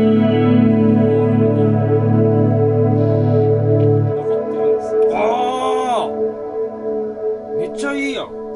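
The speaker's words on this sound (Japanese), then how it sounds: "結構このリバーブは面白くて。" A sustained electric guitar tone through a reverb pedal, washed in lush reverb and chorus, followed by warbling, echoing swells that ring out and fade.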